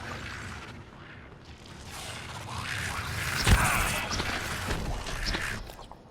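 Enemy turret firing in the video game Prey, aboard the Talos 1 station: mechanical whirring and ratcheting under a rumbling bed, with one sharp booming shot midway and scattered metallic clatter afterward.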